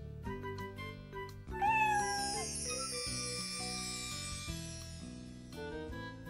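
A kitten in an Italian Caillou cartoon gives a few high, rising meows near the start, set over steady background music with bright tinkling tones.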